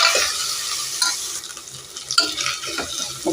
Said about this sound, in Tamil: இது கூட க்ளீன் பண்ணி வச்ச புதினாவும் உள்ளே போட்டுக்கலாம் நம்ம இதையும் நம்ம வதக்கலாம்